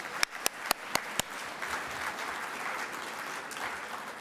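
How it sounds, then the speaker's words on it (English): Audience applause for newly elected academy members at an opening reception, starting with a few sharp, distinct claps that quickly blend into a steady, moderately loud wash of clapping that holds to the end. "Let's give one round of applause to all our newly elected TAMEST members."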